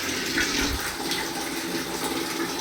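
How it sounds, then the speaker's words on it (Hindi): Water is poured into a tub for washing laundry at a mountain camp on a winter trek in Uttarakhand, a continuous close gushing splash with no voices. "तो पानी भर करके टब में डालेंगे"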